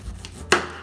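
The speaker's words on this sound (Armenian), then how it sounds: "բաժանում ենք կաղամբը 2 մասի, կրկին 2 մասի եւ այսպես շատ բարակ կտրատում ենք դանակով" A knife slices thinly through a cabbage on a board: one crisp, close chop lands sharply out of near-quiet.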